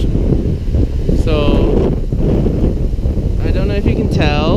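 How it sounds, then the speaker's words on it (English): Strong typhoon wind roars and buffets the microphone in a continuous loud rush, with a voice speaking over it close by. "I don't know if you can tell from the noise, but it is super windy right now."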